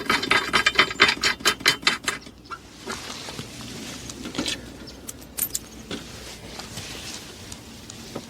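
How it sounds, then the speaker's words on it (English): A ratchet wrench tightening a fastening on the front trunk of an MG4 Electric, rapid clicking ratchet strokes up close at first, then scattered metallic clicks and handling noises. "very carefully secure it with the wrench with a size of 12 and a size of 13."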